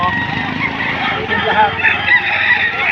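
A black-faced gamecock brought to a rooster sale in Padre Garcia, Batangas, makes brief fowl calls amid a busy outdoor market, with people talking close by throughout.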